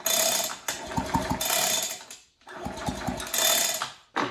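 Piston of a Husqvarna 372XP chainsaw engine being rebuilt, cycled by hand: two rounds of close mechanical whirring and ratcheting clicks, each lasting about two seconds with a brief quiet gap between them.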